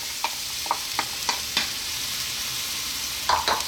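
Finely chopped onion frying in olive oil in a pot over medium heat, a soft steady sizzle with a few light scraping stirs and clicks of a utensil, close by and without talk.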